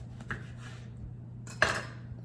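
A knife cuts a lime into wedges on a kitchen board, two brief soft clicks of blade meeting board roughly a second apart over a quiet room hum.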